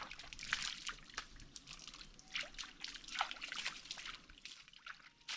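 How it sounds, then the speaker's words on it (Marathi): Water trickles and splashes in an irregular stream while watering a coconut tree, gentle and close, with faint background noise and no talking. "नारळाला पाणी भरपूर झालं आता"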